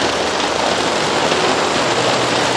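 Rain falls steadily on a garden, making a dense, loud, even hiss of drops hitting plants and surfaces throughout, with no voices.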